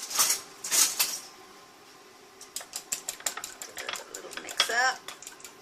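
Egg whites and vinegar are mixed in a bowl, giving a run of quick clinks and scrapes, some soft early and a denser burst of rapid stirring near the end, all close by with no talking.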